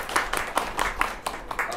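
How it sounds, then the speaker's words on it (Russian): Audience applause at a presentation, a short burst of scattered, uneven hand claps from a modest crowd. "Ваши аплодисменты."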